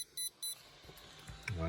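Hobbywing speed controller on an RC boat giving two short high startup beeps, close but faint, followed by soft clicks and a low tone, with someone talking lightly nearby.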